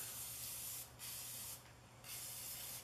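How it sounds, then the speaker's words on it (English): Short hissing bursts of WD-40 aerosol spray cleaning and degreasing parts of a 2004 Troy-Bilt Super Bronco tiller, three spurts close to the mic with brief pauses between them, no talking. "I like using W-40 to clean up my stuff with."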